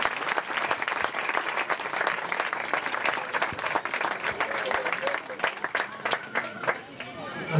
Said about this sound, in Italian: adesso vi chiedo un grande applauso